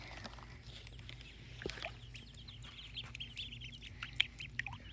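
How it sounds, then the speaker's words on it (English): Baby ducks on a farm, faint scattered peeping and small quacks at a distance over a low background hum, with an occasional sharper chirp standing out. "Oh, look at those baby ducks."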